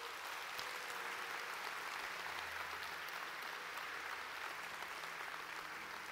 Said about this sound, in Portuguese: Quem pode dar um aplauso ao Senhor Jesus nessa manhã?